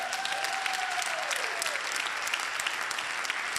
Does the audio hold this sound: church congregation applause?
yes